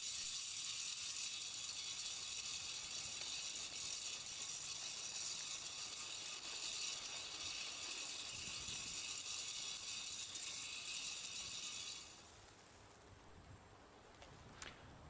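An automatic bird feeder mechanism runs with a continuous high ratcheting, whirring rattle that holds steady at close range and then cuts off, leaving a quieter background and a single faint click.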